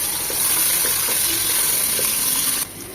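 Chopped onions go into hot oil with whole spices such as cloves for a khichuri and beef curry, giving a steady, close, loud sizzle and hiss that holds throughout and then drops away abruptly near the end.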